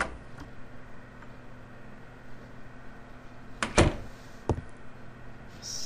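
A door opening in the horror game Scratches, a couple of sharp creaking clunks over a quiet ambient hum, with a faint click before them.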